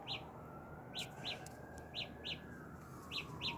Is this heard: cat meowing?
no